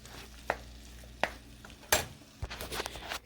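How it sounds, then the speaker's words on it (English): A utensil stirs Mexican Cheddar Jack cheese into a stuffed bell pepper filling, giving soft scraping and several sharp knocks against the bowl, followed by a burst of quick clattering strokes, all close and quiet. "We're gonna stir that in."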